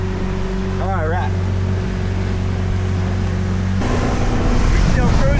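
An old motorboat cruises on water, its engine humming steadily with a tonal drone that shifts pitch midway and grows louder, amid water and wind noise, with brief talk over it.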